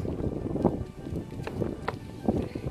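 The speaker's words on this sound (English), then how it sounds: "It's really windy, I'm sorry." Gusty wind buffets a microphone outdoors at a spot where dogs run around, producing a steady low rumbling roar with a few stronger bursts and faint background sounds.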